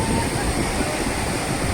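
Sea waves roll and wash onto Malvan beach, a steady broad rushing surf that fills the moment without pause, close and fairly loud with no talk over it.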